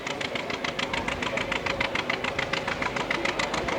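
A vintage tractor with an unusual-looking engine runs during a 1985 tractor pull, its beat loud and rapidly pulsing, steady throughout with a rough knocking rhythm.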